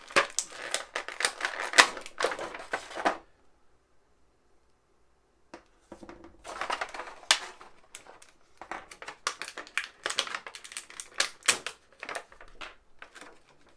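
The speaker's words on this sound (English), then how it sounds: "Let's get her out of this plastic here." Crinkly plastic packaging being handled and pulled apart while a Star Wars Black Series Bo-Katan Kryze action figure is unboxed, with dense crackling bursts, a short quiet pause, then more rustling and snapping close by.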